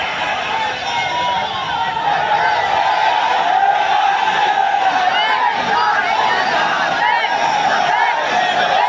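A large crowd at a religious gathering in Indore cheers and chants slogans, with loud, dense and continuous shouting and whooping that stays at a steady level throughout.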